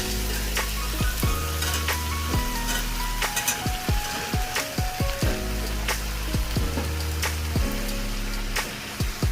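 Okra tipped into hot masala in a pan for Punjabi dhaba-style bhindi masala, giving a steady loud sizzle with crackling bursts and a few clattering stirs and knocks throughout.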